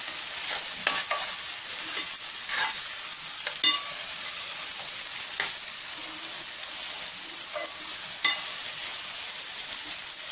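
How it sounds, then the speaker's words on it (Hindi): Masala with green chili and turmeric fries steadily in a pan, a continuous sizzle with occasional stirring scrapes and pops, close and fairly loud with no voices. "पाँच मिनट तक भून लेंगे हम"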